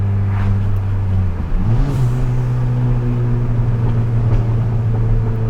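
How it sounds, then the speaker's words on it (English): A straight-piped Ford Fiesta ST accelerating, a loud steady exhaust drone that dips and rises again, with a few faint crackles and pops, heard from inside the car. "Oh, I hope you can hear those pops."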